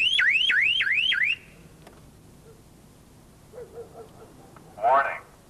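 A car security alarm wails in a rapid rising siren sweep for about a second, then stops, leaving quiet with a few faint noises and a short electronic chirp near the end.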